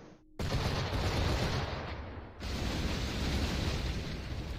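A single ship cannon volley from Assassin's Creed IV: Black Flag booms out after a short quiet start, a loud sustained rumble of gunfire and explosion that briefly drops away midway and then swells back, with no voices.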